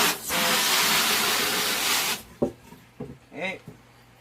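Water sprays onto a silkscreen printing screen, a loud, close hiss lasting about two seconds, followed by a few soft knocks and a brief voice.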